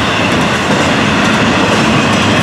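An intermodal freight train rolls past close by, a loud, steady rumble of wagons with clickety-clack wheel noise and faint squeal running the whole time, no voices.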